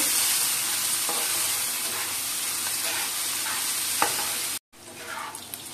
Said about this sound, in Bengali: পেঁয়াজটাকে আমি লাল করে ভাজবো।